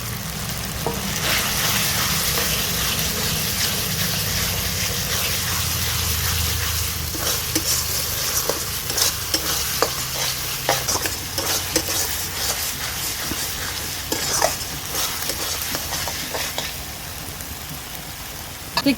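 Chopped tomato with ginger-garlic paste stir-fried in a pan for chicken fry curry: a loud, continuous sizzle close up, with frequent spatula scrapes and taps across the pan as it is stirred.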